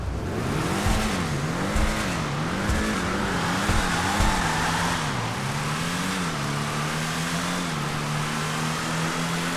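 Tuned Karin Everon V8 in GTA 5 roaring through a tunnel with steady revving, pitch rising and falling as the throttle works, turbo whoosh and exhaust crackle over a continuous loud engine drone, no talking.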